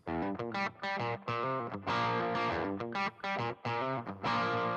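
An overdriven electric guitar plays a chunky, distorted riff with short pauses between phrases, loud and close.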